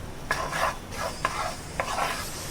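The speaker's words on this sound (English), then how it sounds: "After adding the milk, we should continuously stir it." A spoon stirs a white sauce with milk in a pan for a vegetable au gratin, three rhythmic scraping sweeps over a soft sizzle, close and clear with no talking.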